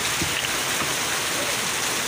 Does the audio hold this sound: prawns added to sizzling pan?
no